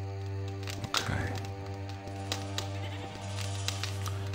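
Goats bleat in a video game set among a goatherd's flock, several short cries scattered over a steady humming tone and faint clicks, with no talk.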